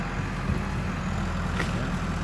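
A tractor engine runs with a steady low rumble at moderate distance, continuous and even, with no one talking.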